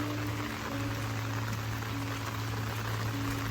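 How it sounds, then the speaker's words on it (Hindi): Heavy monsoon rain falls at night in Lonavala as a steady, dense hiss with a low constant hum from nearby machinery underneath, unbroken and fairly loud. "इस वक्त लोनावला में मॉनसून का सीज़न है, तो यहाँ की बारिश से तो आप बच ही नहीं सकते"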